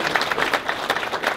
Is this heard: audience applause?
yes